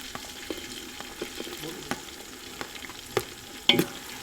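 Chopped onions dropped onto ginger-chili paste in a pan for chole bhature, frying with a quiet steady sizzle while a spoon stirs and taps at intervals, one sharper scrape near the end.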